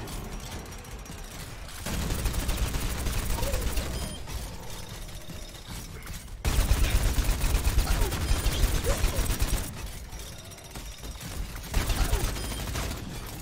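Twin coupled machine guns fire in a video game, long rapid rattling bursts that start and stop in several stretches, loud and mechanical with brief quieter gaps between volleys.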